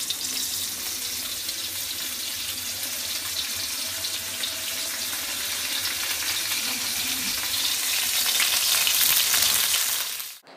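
Marinated chicken frying in a pan with onion and tomato, a dense continuous sizzle close by that grows slightly louder toward the end before cutting off, with no talk.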